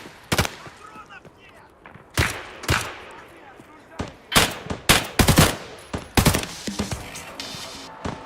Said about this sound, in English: who keeps shooting that gun in there?